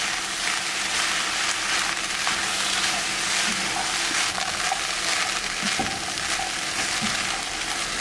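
Shrimp stir-frying in a hot pan with soy sauce and oyster sauce for an egg shrimp fried rice, a steady loud sizzle with occasional scraping stirs and small crackles throughout, no talking.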